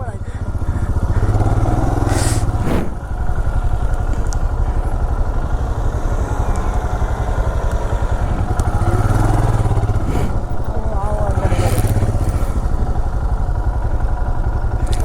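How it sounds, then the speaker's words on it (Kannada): A motorcycle engine drones and putters steadily nearby at a Maha Shivaratri celebration, a continuous mid-pitched motor sound with periodic revving swells, while people talk over it. "ಬೈಕ್ ಹೋಗುತ್ತಂತಲ್ಲ ಅಲ್ಲಿ, ಬೈಕ್ ಹೋಗುತ್ತಂತೆ"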